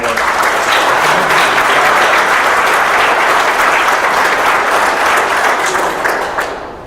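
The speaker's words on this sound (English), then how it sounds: "Let's give everybody up here a great round of applause for all their hard work." An audience at the IndyCar Grand Prix of Louisiana press conference applauds loudly and steadily in a dense, sustained round of clapping that tapers off near the end, with no voices over it.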